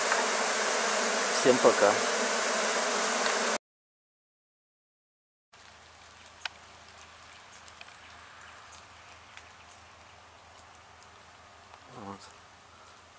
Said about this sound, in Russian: Вчера снял пчел, поставил новую ловушку. Ну, это, наверное, остатки летают.